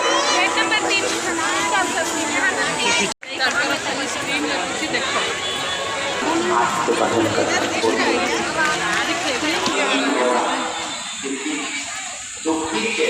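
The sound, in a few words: large crowd at a Shiv Mahapuran religious gathering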